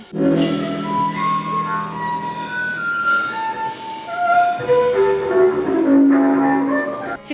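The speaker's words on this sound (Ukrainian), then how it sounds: "у гру вступають тібетські чаші та спеціальні дзвіночки" Bright, ringing metallic tones from Tibetan singing bowls and small bells sustain and overlap, with several struck bell-like notes layered over a resonant hum, steady and fairly loud throughout, at a jazz trio concert.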